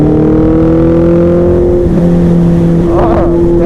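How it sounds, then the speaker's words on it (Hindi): Heavy road traffic on a Delhi expressway roars steadily and loudly, with engine drones sliding in pitch as vehicles pass close by, and no talk over it. "क्या बात है, ट्रैफिक पड़ चुका है आज तो।"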